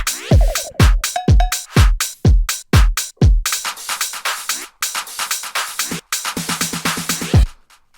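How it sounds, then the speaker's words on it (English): A series of punchy tech house synth hits with quick downward pitch sweeps, followed by rapid noisy bursts and a short run of buzzy tonal stabs. "there are also some more sweeps and some more perks"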